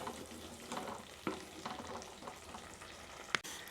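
Egg roast with black pepper sizzles as it is stirred and cooked down in a pan, with continuous frying crackle, soft scraping strokes and a sharp utensil knock near the end.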